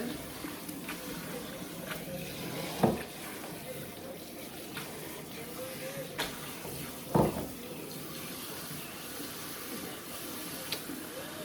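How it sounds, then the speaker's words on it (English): Raw steak rinsed under a running kitchen tap before seasoning for pepper steak, giving a steady stream of water into a sink with a couple of louder splashes and knocks as the meat is handled. "So now I just rinse this off a little bit more."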